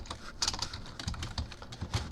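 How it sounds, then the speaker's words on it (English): Computer keyboard typing during a Java programming session, a quick run of close, crisp key clicks in an uneven rhythm, heard alone with no talk. "I'm going to type in the same thing as before"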